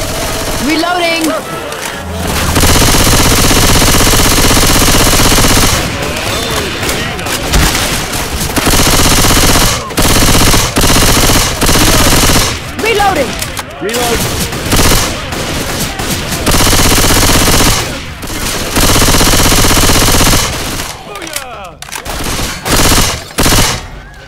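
Rapid bursts of automatic gunfire and shotgun blasts from the video game Left 4 Dead 2 during a Dark Carnival round, loud and near, with sustained volleys and short pauses between them and players' voices calling out underneath.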